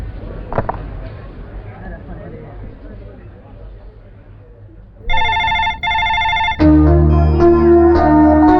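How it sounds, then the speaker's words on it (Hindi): After some quiet talk, a telephone ring tone sounds through a handset in two electronic bursts, then a melodic ringback tune plays on, unanswered. "रिंग बज रही लेकिन कोई उठा नहीं रहा है"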